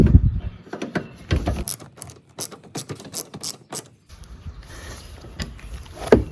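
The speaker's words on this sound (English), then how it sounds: "Now I use my ratchet." A hand ratchet tightens a bolt on a Nissan airbag crash sensor in a Nissan Xterra, Frontier or Pathfinder, giving close, crisp bursts of rapid clicking in several separate strokes with short pauses between them.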